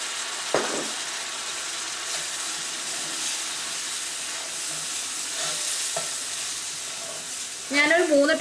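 Vinegar is poured into chili powder frying in oil for a bitter gourd pickle, giving a steady close sizzle and stirring with a sharp burst of spitting near the end.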